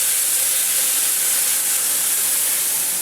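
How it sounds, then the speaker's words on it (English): Chopped onion sautéing in butter over medium-low heat, giving off a continuous, even hiss of frying with no breaks or voices. "I'm adding one large chopped onion, and we're going to saute that up"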